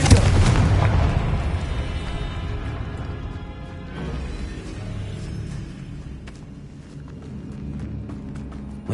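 A Confringo blasting spell explodes in a video game: a loud booming blast opens, then a rumbling, crackling decay with scattered sharp pops lasts several seconds, no voices.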